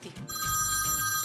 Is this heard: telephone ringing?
yes